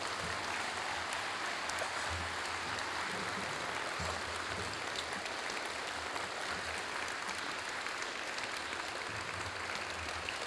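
A church congregation claps steadily in sustained applause of praise, a broad even wash of many hands, fairly distant and uniform with no speech over it.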